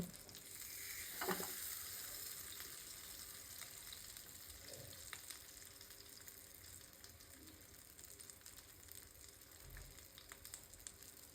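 Beef tripe tikka frying slowly over low heat gives a soft, steady sizzle with faint stirring and occasional scraping, continuous throughout and quiet overall.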